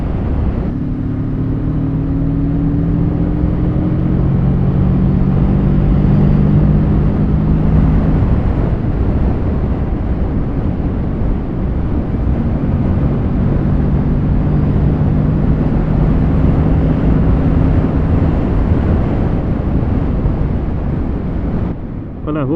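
Heavy wind buffets the microphone while riding a Kawasaki Z650 motorcycle, a loud continuous roaring rush with faint engine tones underneath, and a rider talks over it.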